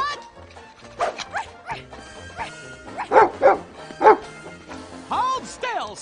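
An animated puppy in chains yips, barks and whimpers in several high-pitched bursts, close and loud, with a voice shouting over the cartoon soundtrack.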